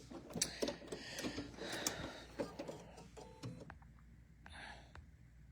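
A Baby Lock sewing machine finishing a stitch: faint mechanical whirring and clicking of the needle mechanism with small ratcheting ticks, winding down into a short whine near the end, no talk.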